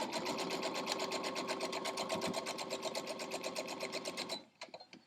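A sewing machine stitches pieces of a quilt star block, running in a fast, even rhythmic clatter for about four seconds before stopping abruptly, followed by a few faint handling clicks.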